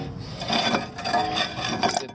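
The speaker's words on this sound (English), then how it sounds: "So I work the caliper back and forth" A seized rear brake caliper on a Volkswagen Jetta MK6 is worked back and forth, giving a steady metallic scraping and rasping that comes in uneven bursts over about two seconds, close up and moderately loud.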